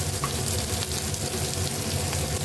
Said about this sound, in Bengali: এটা আমি কড়াইতে দিয়ে ভেজে নেব।